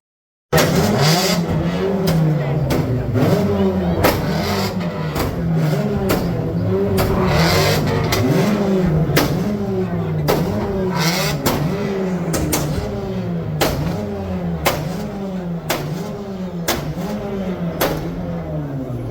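A modified car engine revs hard and continuously inside a cinema theatre compound in Nilambur, with loud, rhythmic rising and falling surges of throttle that never let up.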